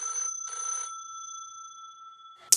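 A phone rings after rapid taps on a Chronos analog smartwatch face, two short electronic trill bursts followed by a lingering tone, then a sharp click at the end, fairly quiet.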